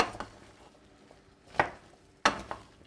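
Potatoes being stirred in a pot on a stovetop, a few distinct knocks and scrapes of the utensil against the pot over a quiet background, close and fairly soft.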